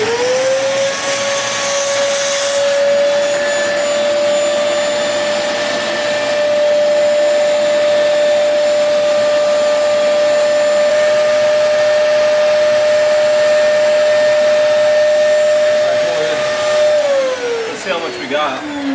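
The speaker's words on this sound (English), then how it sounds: "So I've got the vacuum jammed in there, and some's leaking from the radiator onto the ground" A vacuum cleaner drones steadily while sucking coolant out of a car radiator, a loud, constant whine that holds one pitch before winding down near the end.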